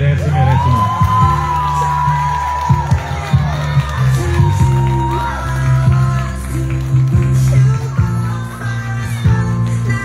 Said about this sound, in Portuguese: Pode bater palmas que eles merecem e merecem mais.